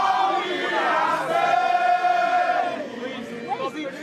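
A crowd of supporters gathered outside a London think tank sends up sustained, tonal chanting and cheering, steady and loud throughout before easing slightly near the end.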